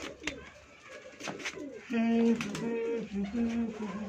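Soft, low cooing of pigeons close by, a few throaty bursts in the second half, with rustling and a faint voice in the background.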